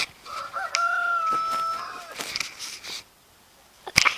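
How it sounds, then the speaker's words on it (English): A rooster crows loudly and close by, with chickens clucking around it, then a short quiet stretch before a final sharp squawk. "that's my chickens"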